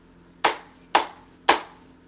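Three sharp hand claps, evenly spaced about half a second apart, close and fairly loud, setting off clap-activated light-up shoes in a quiet room.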